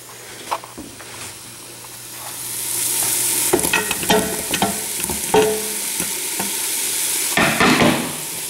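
Vegetables for minestrone sizzle steadily in a hot pot while a spoon stirs them, giving loud scraping clatters and clicks over a continuous frying hiss close to the mic.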